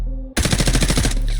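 Rapid automatic gunfire in a video game during a zero-recoil test, a loud, tight burst of evenly spaced shots lasting about a second, alone with no talk.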